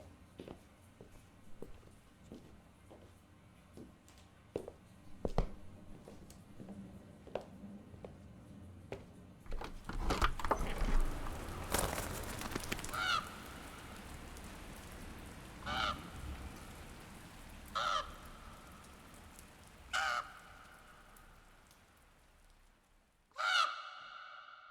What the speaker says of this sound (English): That's a bird tapping on the rainy window that Devitt is looking out of.